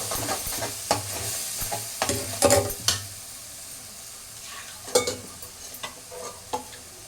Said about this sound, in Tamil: கொஞ்சம் வதக்கி விட்டுட்டு நம்ம காரம் எல்லாம் போட்டுக்கலாம்.